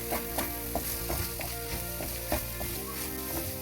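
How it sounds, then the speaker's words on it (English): Chopped onions frying together with minced beef in a pan, a steady close sizzle broken by repeated scraping stirs at a loose rhythm, with no one talking. "I will again add my onions and mix well with my minced meat."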